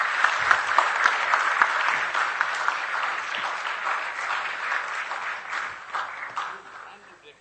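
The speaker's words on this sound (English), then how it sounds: "round of applause, please." Audience applause after a lecture at a Gandhian-themed talk, sustained dense clapping that stays loud and then gradually thins and fades toward the end, with a voice speaking over it.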